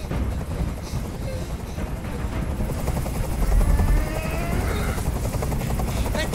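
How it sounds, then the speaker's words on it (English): A helicopter hovers overhead in the video game Detroit Become Human, its steady rotor chop droning loud and continuous, with faint voices beneath. "Tell that helicopter to get out of here."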